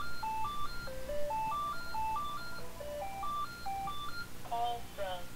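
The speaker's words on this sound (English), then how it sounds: "Oh my god, the phone." A telephone ringing inside the video game Bully Scholarship Edition, a repeating electronic ringtone melody of stepped beeps that plays steadily for several seconds over a low game-ambience hum.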